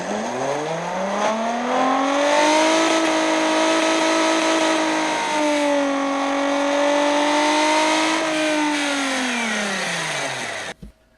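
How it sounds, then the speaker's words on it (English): The Batmobile's engine, a powerful car engine, rumbles and is revved up and down in smooth sweeping rises and falls, loud and close, then cuts off abruptly at the end. "Bruce Wayne gets into the new Batmobile, starts up the engine, and revs it up to hear how it sounds."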